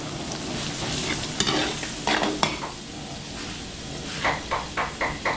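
Garlic and onion sauté in a hot pan, a steady broad sizzle punctuated by several scraping stirs of a spatula, with a quick run of clinks toward the end.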